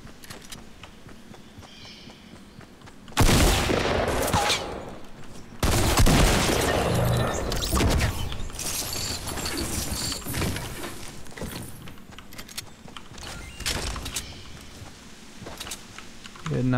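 Rapid bursts of gunfire in Fortnite Battle Royale, loud and close, come in dense clusters with brief gaps, mixed with footsteps and game effects, while a voice talks over parts of the action.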